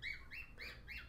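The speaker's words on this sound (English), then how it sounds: "my pet bird is trying to get in on this" A pet bird chirps indoors, four clear rising tweets in an even rhythm, fairly close but soft, with no talking over them.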